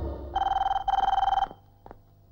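A telephone in a comedy scene rings loudly in two rapid trilling bursts close by, followed by a couple of faint knocks and silence.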